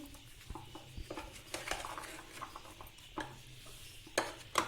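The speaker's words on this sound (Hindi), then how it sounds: "अच्छी तरह से इसको मिक्स करें" Chana chaat with yogurt is mixed in a bowl with a spoon. Quiet, irregular clinks and scrapes against the dish come with soft wet stirring.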